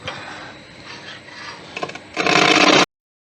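A wood gouge cuts driftwood spinning on a lathe, giving a steady close scraping rasp that swells to a loud, dense shaving burst for about a second before stopping abruptly.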